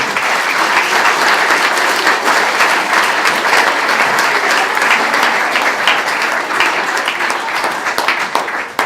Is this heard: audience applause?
yes